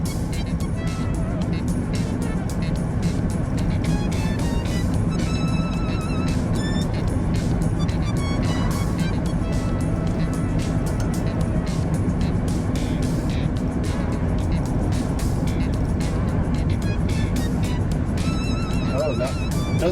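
A 1965 Ford F-100 truck driving on new tires, giving a steady, close cabin rumble of road and engine noise throughout, with someone talking over it.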